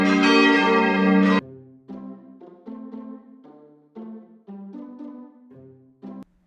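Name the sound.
temple bell ringing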